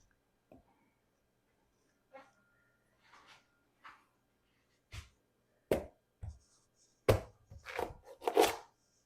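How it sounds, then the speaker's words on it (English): Hard-rinded squash being hacked apart with a blade, a series of sharp separate chops that grow louder and quicker toward the end, with a few faint sounds between strikes. "Will, would you kindly samurai that squash for me?"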